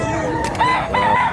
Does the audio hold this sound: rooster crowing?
yes